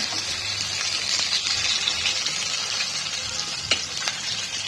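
Pomfret fish frying in a pan, a steady close hiss and crackle of hot oil throughout with a few small pops, no voices.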